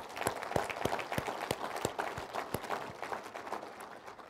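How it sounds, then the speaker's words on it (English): An audience at a 2015 state government address gives thin, fairly faint applause of scattered distinct claps that dwindle toward the end. "I think we should clap about that"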